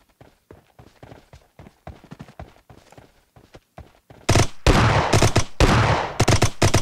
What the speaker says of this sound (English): I feel like I hear footsteps